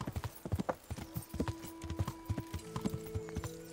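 Horse hooves in Kingdom Come: Deliverance, a steady clip-clop of a ridden horse moving at an even rhythmic pace, fairly close, with soft sustained tones coming in underneath toward the end.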